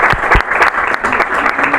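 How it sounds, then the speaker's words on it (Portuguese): Loud, close applause from an audience during a live interview event, with strong individual hand claps over a continuous wash of clapping. "uma salva de palmas pelo trabalho que eles fizeram"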